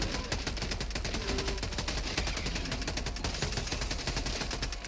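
Rapid, dense automatic gunfire from the Helldivers 2 video game, a sustained close burst of overlapping shots and explosions filling the whole stretch with no pause.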